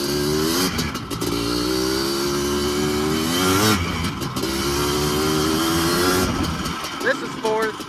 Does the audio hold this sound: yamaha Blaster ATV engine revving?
yes